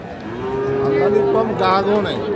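A cow gives a long, loud moo close by at a cattle market, a drawn-out low call that wavers in pitch.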